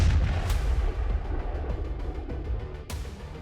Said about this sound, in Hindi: इजरायली सेना ने बम धमाका कर उस मकान को उड़ा दिया